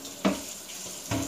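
Tap water running into a pot to rinse it out during home Thanksgiving cooking, a steady faucet stream with two louder splashing bursts, nearby and without speech.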